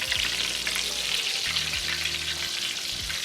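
Catfish frying in hot oil for a crispy fried dish, a dense, steady crackle and hiss up close with a low hum of kitchen noise beneath, no one speaking.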